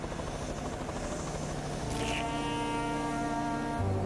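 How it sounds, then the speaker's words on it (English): An animated cartoon helicopter comes in to land with a quiet, steady buzzing engine hum and tonal drone, a brief hissing burst midway, and no voices. "Good grief, a chopper."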